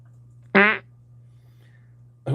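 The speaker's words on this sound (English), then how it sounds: "relax and plays a fart sound" A played fart sound effect: one loud, buzzy, sputtering burst, a quiet pause, then a second burst that cuts off at the end.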